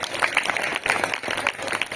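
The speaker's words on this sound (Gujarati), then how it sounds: "તો આપણે એને તાળીઓથી વધારી લઈશું" An audience at a school farewell ceremony breaks into brief, lively applause, dense hand claps filling the short moment.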